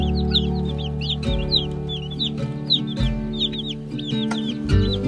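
Young chicks in a brooder peep and cluck in rapid, overlapping high chirps, close and continuous, with occasional low thumps and rustling beneath.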